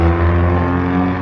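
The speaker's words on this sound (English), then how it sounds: "the exhaust and the vehicle are so loud, and you would think it's a fast car driving by" Loud, throaty car exhaust rumbling close by outside a Brampton drive-in, a deep steady drone with strong low harmonics holding for about a second before cutting off.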